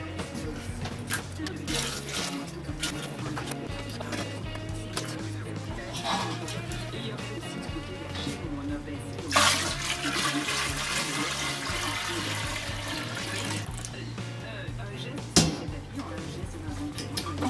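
Water runs and splashes steadily as beer brewing equipment is rinsed, with a louder gushing surge partway through and a few knocks of handled gear, while people talk in the background.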